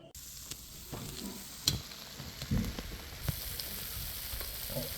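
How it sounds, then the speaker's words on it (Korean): Fried rice with a little extra broth sizzles and simmers in a pan as it reduces, a soft steady crackle with occasional stirring clinks, faint and close. "이 볶음밥이 익어가는 소리 약간 국물이 많아서 졸이고 있어"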